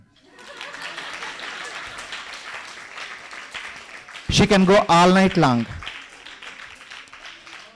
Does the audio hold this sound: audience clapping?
yes